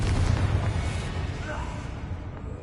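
Spell blasts in the Hogwarts Legacy video game, a dense rumbling burst of explosive noise that is loudest at the start and slowly fades over a couple of seconds.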